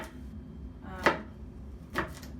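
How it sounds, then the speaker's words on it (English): Two sharp knife chops on a cutting board, each a crisp thud, about a second apart, mincing peeled garlic cloves, close and fairly quiet over a low background hum. "first slice it one way and then kind of turn it and slice it the other way"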